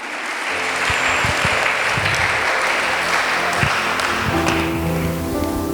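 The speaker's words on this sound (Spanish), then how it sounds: "démosle un fuerte aplauso al Señor" A church congregation during a sermon breaks into strong, sustained applause, many hands clapping densely and loudly, with a low musical drone and keyboard tones underneath.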